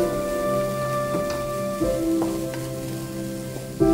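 Thai fried rice stir-fried in a pan, a steady close sizzle with scraping stirs and occasional clanks of the utensil against the metal, continuous and fairly loud with no voices.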